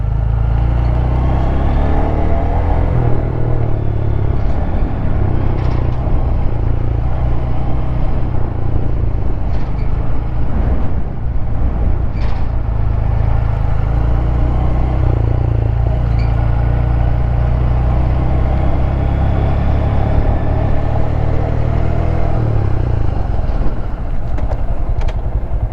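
A car rolls slowly past a 2022 Honda Grom motorcycle, its steady engine rumble merging with the bike's idle and wind noise for the whole stretch, loud and close without a clear peak.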